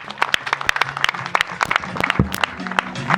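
Guests at a wedding clap for the bride Germain's elders, a brisk burst of scattered, sharp handclaps over a low background hum, fairly close and continuous across the moment.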